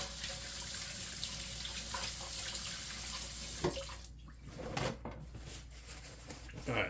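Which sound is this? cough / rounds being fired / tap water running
tap water running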